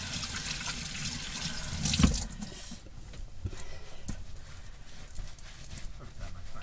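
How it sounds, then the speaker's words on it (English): Running tap water pours into a sink while hands are rinsed, a steady close splashing stream with a knock partway through, continuing more softly afterward with no talking. "Right, let's rinse my hands."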